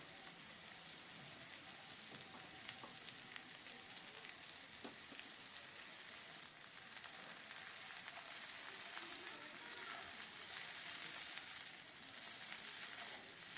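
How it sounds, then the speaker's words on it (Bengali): Cauliflower and spring onion greens frying in a pan, giving a steady, even sizzle with a soft hiss throughout and no talking. "এবার পেঁয়াজ কলিগুলো দিয়ে দিলাম সব কিছু দিয়ে ভালো করে ভাজতে হবে"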